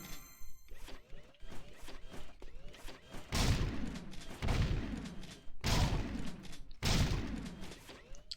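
Gunfire in the video game Jak II: sharp, loud shots crack out in a rapid, uneven series, with several heavy blasts that ring out and decay between rattling bursts.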